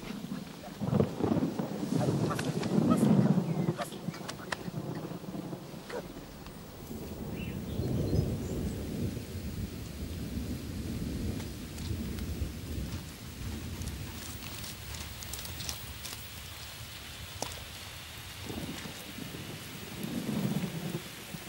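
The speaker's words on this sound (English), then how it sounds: "I think it's starting to rain." Steady rain pours down while deep thunder rumbles roll in and out, strongest near the start and again at the end. No voices.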